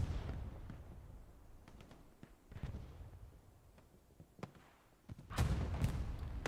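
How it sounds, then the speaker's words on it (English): A burning tank shells an alleyway in a war video game set in Carentan. Sparse, fairly faint thuds and cracks sound at a distance, then a loud, close blast lands near the end and rumbles on. No voices are heard. "Tanks still shelling the alleyway despite being on fire"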